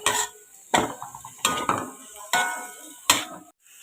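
Minced pork stir-fried in a pan with garlic and fresh chilies, with five sharp, loud scrapes and clanks of a utensil against the pan coming at a steady rhythm, each followed by a brief rattling tail. No one speaks.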